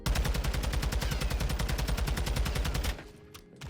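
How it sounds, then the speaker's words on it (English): Rapid automatic gunfire from a weapon in the video game Modern Warfare 2, a loud, steady stream of evenly spaced shots lasting nearly three seconds before cutting off into a quieter tail. "as I was shooting my gun"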